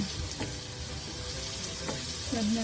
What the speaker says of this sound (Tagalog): So, next ko nang ilalagay itong kamatis.